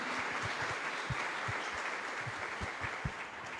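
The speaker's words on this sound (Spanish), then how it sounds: "Fuerte aplauso para Monseñor Faustino." Applause from an audience at a national catechetical congress, honoring a bishop after his address; steady, dense clapping fills the whole stretch at moderate level with no talk over it.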